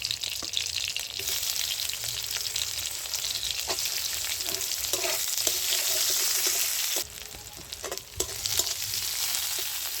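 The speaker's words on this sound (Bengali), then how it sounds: "ফোড়নটা আমার ভাজা হয়ে গেছে, এবারে আমি পেঁয়াজটা দিয়ে দিচ্ছি।" Sliced onion frying in hot mustard oil in a wok over tempered nigella seeds and dried and green chillies: a loud, continuous sizzle with spatula scrapes and stirring, briefly easing near the end before crackling again.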